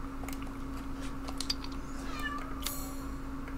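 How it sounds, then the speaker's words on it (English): A pet cat named Elsa meows indoors, soft and somewhat distant, a couple of brief rising calls over a steady low electrical hum and background game sound. "Elsa is meowing, if you could hear that"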